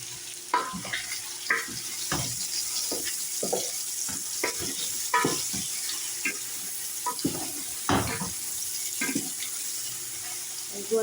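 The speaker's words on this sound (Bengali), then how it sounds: "গোশটারে হালকা একটু ভাজি করে দিচ্ছি।" Meat lightly frying in a pan, with repeated stirring scrapes and bursts of sizzle at an irregular rhythm, close and moderately loud. A tap also seems to run with watery sounds.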